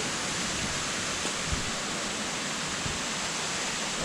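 Steady broadband roar of a waterfall beside a hiking trail, constant and close, filling the whole clip without a break, with a few faint low knocks but no talk.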